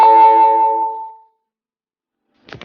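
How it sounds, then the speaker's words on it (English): A phone gives a low battery alert as a single short electronic tone that rings for about a second and fades, followed by silence and a brief faint rustle at the end. "The sound was just my phone telling me that it needs to charge."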